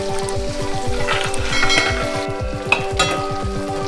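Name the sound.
small onions and curry leaves frying in a pan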